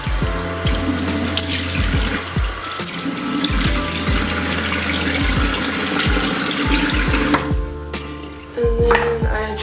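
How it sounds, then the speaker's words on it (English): Water runs from a bathroom sink tap as someone splashes their face during an early-morning skincare routine, a steady close rush with repeated splashy bursts throughout. "splash my face with water"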